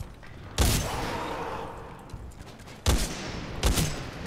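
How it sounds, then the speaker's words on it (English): Gunfire in the Titanfall 2 campaign on PC: three sharp, loud bursts of in-game shots over a continuous noisy battle background, spaced a second or two apart. "Good shooting, Tex"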